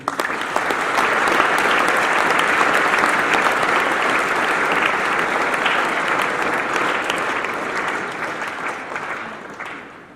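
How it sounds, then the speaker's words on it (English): Sustained, loud crowd applause at a college speech night honoring the Board of Governors, dense and steady for about ten seconds before tapering off at the end. "Please give the Board of Governors a huge round of applause."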